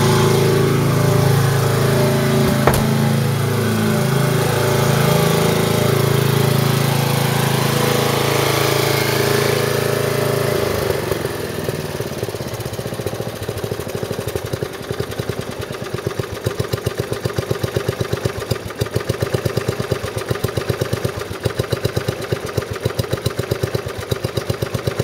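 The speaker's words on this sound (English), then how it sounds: "The red lawnmower. It's running right now." A small Dynamark lawn mower engine idles steadily nearby, a constant loud droning hum that shifts to a slightly rougher, pulsing tone partway through.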